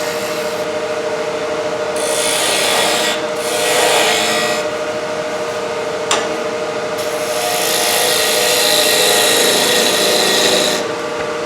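A wood turning gouge back cuts a square oriental wooden box on a lathe, making a steady close rasping scrape that swells and eases in several passes over a constant mechanical hum.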